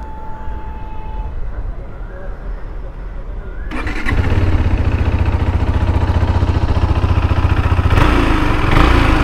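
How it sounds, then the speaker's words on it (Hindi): A 2023 KTM RC390 motorcycle fitted with an aftermarket exhaust starts up after a few seconds of quiet and settles into a loud, steady, throbbing idle close by, with a brief blip near the end. "चलिए एक बार इसको स्टार्ट करते हैं,"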